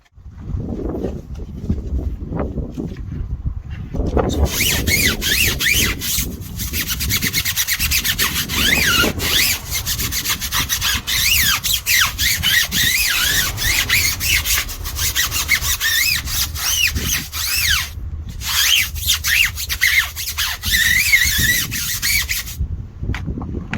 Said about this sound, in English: I'm going to use my garage therapy wheel mitt to really get in there